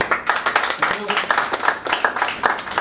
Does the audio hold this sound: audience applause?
yes